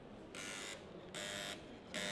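A loud electronic buzzer at a booth on a busy broadcast-equipment trade show floor, InterBEE 2018, blares in three harsh bursts, each lasting under half a second, separated by short pauses over the hall's background murmur.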